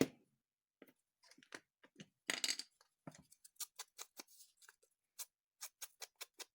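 Paper being trimmed for a mini accordion journal craft, heard as a quick series of crisp, close snips and clicks, some sparse and others in a steady ticking rhythm, with no talking.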